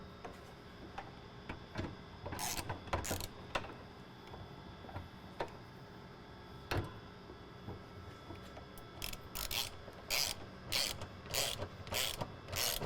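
A ratchet with a 15 mm socket fastens the fuel tank bolts on a Mercedes Sprinter van, with scattered clicks early on, then quicker runs of sharp ratcheting clicks, faint and close.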